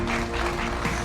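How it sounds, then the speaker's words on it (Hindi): An audience applauds at a ceremony honouring Param Vir Chakra recipient Captain Yogendra Singh Yadav, a dense, steady wash of clapping throughout, with a low hum underneath. "यस, तालियां और भी बजती रहे।"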